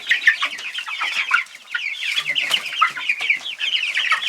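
Chicks and young chickens cluck and peep in a run, a dense, continuous flurry of high chirping calls close by with no talk.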